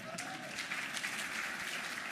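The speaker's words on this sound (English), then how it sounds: "Let's give a round of applause for this delightful moderator." Conference audience applauding at a regional meeting in Miami, a steady wash of dense clapping that fills the whole stretch at even loudness.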